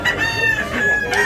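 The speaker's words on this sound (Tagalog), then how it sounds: "Gandang manok." A big-sized two-year-old rooster at a market in Tabunok, Cebu crows once, loud and close, a sustained ringing cock-a-doodle with clucking tones around it.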